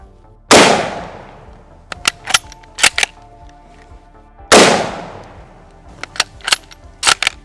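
Two loud, close rifle shots from a MAS-36 firing .308 Winchester, each a sharp blast with a decaying echo, followed by several quicker sharp cracks and clatters of the action, with no talk.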